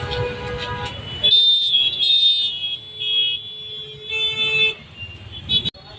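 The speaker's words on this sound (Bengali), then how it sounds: "গাড়িগুলা অল্প অল্প যাচ্ছে আবার ট্রাফিক জ্যাম সমস্যায় আটকে যাচ্ছে" Slow-moving road traffic stuck in a jam on a street in Silchar: layered vehicle horns toot and blare repeatedly over a low engine rumble, some close and loud, with a brief abrupt cut near the end.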